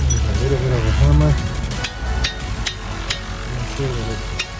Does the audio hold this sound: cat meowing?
no